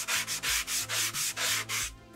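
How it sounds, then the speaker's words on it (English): A soft sanding sponge scrubs over a foam helmet coated with gap filler, making about nine rhythmic back-and-forth rasping strokes, close and fairly loud, with no voices. "Best way to sand this stuff is using a soft sanding sponge."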